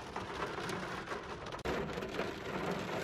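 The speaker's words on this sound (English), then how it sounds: "Thunder and lightning, and the wind is picking right up" Steady heavy rain pours down during a windy thunderstorm, with a low rumble of thunder rolling under the dense, continuous hiss of sizable droplets.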